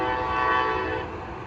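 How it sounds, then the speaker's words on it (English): A train passes through Old Town San Diego with a sustained, loud, tonal rumble, horn-like and steady, close by for a moment before easing off slightly. "that's probably the train you're hearing right now too"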